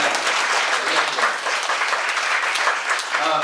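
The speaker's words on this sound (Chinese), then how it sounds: "我们拍掌把荣耀归给主" A church congregation claps together in steady, dense applause that holds at an even level for the whole stretch, with no break and no clear voices on top.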